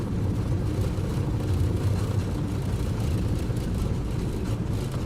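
An MD-80 airliner rolls down the runway for takeoff at reduced power and low flap in Microsoft Flight Simulator, its engines a loud, steady low roar with a rumbling whir, unbroken throughout and without voices.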